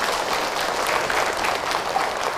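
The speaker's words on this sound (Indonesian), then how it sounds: "Tepuk tangan buat beliau." Audience applause at a religious talk, a dense, even wash of clapping hands from a crowd, sustained throughout without pause.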